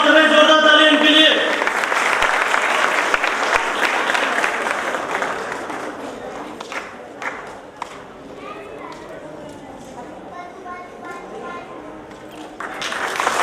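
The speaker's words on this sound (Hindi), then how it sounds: "जोरदार तालियां इनके लिए।" Crowd applause at a school ceremony for Ambedkar Jayanti, a loud burst of clapping that slowly thins into scattered claps, with amplified speech over it at the start and end.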